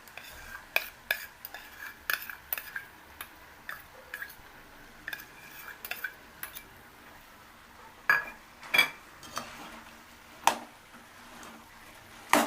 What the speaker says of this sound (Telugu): బాగా కలిసేటట్టు, ముక్కలకి బాగా పట్టేటట్టు బాగా కలియబెట్టండి.